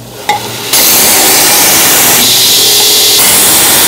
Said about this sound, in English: Now we're just gonna belt sand all the edges clean.